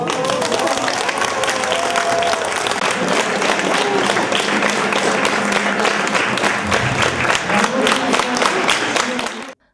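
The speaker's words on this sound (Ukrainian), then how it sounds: "Бурхливими оплесками вітають ветерана обласного телебачення" Sustained, loud applause from a crowd at a regional television station's tribute to its veterans, thunderous clapping filling the room steadily for nearly ten seconds before stopping abruptly.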